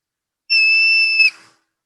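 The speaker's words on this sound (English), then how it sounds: "You can tell marmot calls apart from pika calls because they're higher pitched chirps or whistles" A single loud, high-pitched marmot whistle held for about a second, clear and piercing, ending with a brief upward flick, with silence around it.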